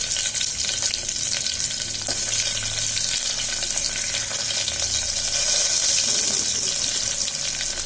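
Onion frying in hot oil with crackling cumin, mustard seeds and chillies, a steady loud sizzle with occasional stirring scrapes and a brief watery splash, no voices.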